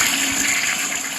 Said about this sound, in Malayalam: ഫ്ലഷ് അടിക്കാനും പറ്റുമോ?